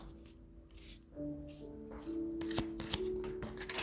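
Tarot-style cards slipping and falling onto the floor, a soft cluster of quick flicking and slapping rustles, close and fairly quiet.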